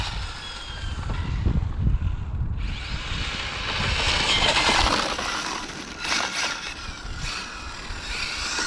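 A Hobao Hyper GT RC car's electric motor whines as it drives past, rising and falling in pitch with speed, moderately loud over outdoor background noise.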